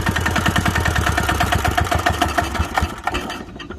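A small one-cylinder diesel engine on a Hanix H05 mini excavator runs steadily with a rapid, rhythmic chugging, loud and close, then winds down and fades near the end.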